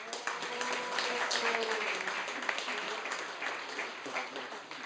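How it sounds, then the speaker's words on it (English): Steady applause from guests at a patrons dinner rolls on without a break, moderately loud and even, with no voices standing out above it. "a big round of applause for him."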